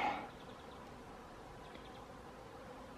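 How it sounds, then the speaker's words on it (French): A migrating honeybee swarm hums faintly and steadily in the open air, with a louder burst at the very start, no voices. "je vois un essaim en cours de migration"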